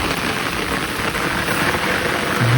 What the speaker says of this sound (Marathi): पाऊस कसला मस्त पडायला बघा, धो पाऊस पडायला लागलाय